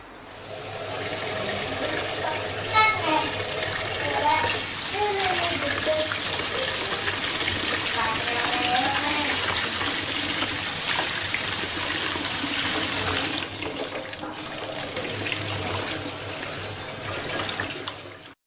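Mung bean sprouts rinsed under steadily running water, a loud, continuous gushing splash that carries on for the whole stretch and eases slightly toward the end, with no talking.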